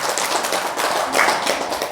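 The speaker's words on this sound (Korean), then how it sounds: "박수 한번 쳐주세요." An audience at a seated meditation talk claps together, a dense steady patter of hands for two seconds with no talking.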